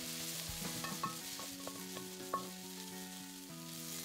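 Onions and curry leaves sauté in a pan for a Kerala-style tomato fry: a steady sizzle runs throughout, with occasional scrapes and clinks of the stirring spoon and no talking.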